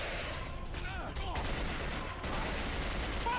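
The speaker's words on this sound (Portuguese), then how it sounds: "Minha arma não para de atirar, pelo amor de Deus! Para de atirar!" Rapid, nonstop gunfire from a weapon in a Resident Evil-style shooter video game, a dense continuous burst of shots running the whole stretch, with a voice faintly mixed in underneath.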